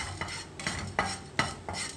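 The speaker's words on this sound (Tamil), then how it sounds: "ட்ரை ரோஸ்ட் அது." Cinnamon, cardamom and cloves dry roasted in a pan without oil for vegetable pulao spices, a utensil stirring with regular scraping strokes and light rattling, close and clear, no talking.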